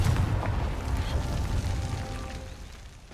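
A Confringo fire spell blasts in the Hogwarts Legacy video game, a deep booming explosion that rumbles loudly at the start and decays over about three seconds with a lingering low roar.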